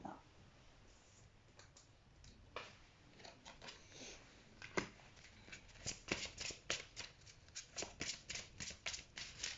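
Tarot cards are shuffled close by, a soft papery riffle that builds into quick, sharp flicks and clicks toward the end, quiet and alone with no talk.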